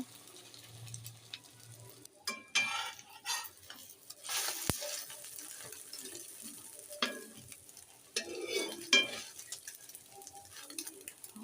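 Eggs frying in a pan for a breakfast with vegetables and paratha: intermittent close sizzling bursts, with utensil scrapes and pan clatter between quieter pauses.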